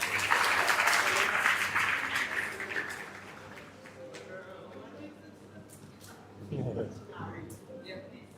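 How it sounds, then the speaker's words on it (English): Audience applause at a secondary school graduation ceremony, loud clapping that fades to scattered claps within a few seconds, with a voice speaking over the tail. "Let's keep the applause going"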